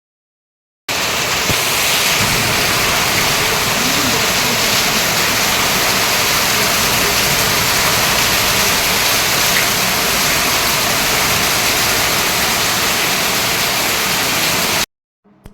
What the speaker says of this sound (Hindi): तो आपने सुना कैसी झमाझम बारिश हो रही है।